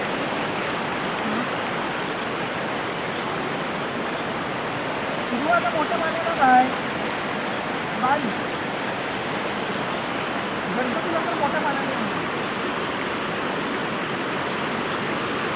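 Steady broadband rush of river water flowing at night fills the whole stretch, with a few faint brief sounds rising above it.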